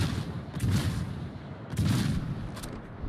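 Naval video game ship guns firing armor-piercing shells, heard as two heavy booming salvos with rumbling low-end roll, followed by a fainter third report near the end.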